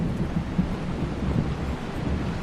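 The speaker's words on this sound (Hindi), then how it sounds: "बारिश भी रुकने का नाम नहीं ले रही है" A heavy rainstorm in a historical war film scene set around Panipat: a steady, dense roar of rain and wind with a low rumbling undertone, unbroken and without voices.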